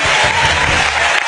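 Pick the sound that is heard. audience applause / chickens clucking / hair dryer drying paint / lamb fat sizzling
audience applause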